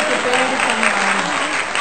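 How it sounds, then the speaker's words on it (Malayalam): Hands clap in steady, dense applause for fast answers in a family quiz game, a continuous close roar of clapping with a voice running over it. "നമുക്ക് കൈയടി കൊടുക്കാൻ അടിപൊളിയായിട്ട് കേൾക്കാം"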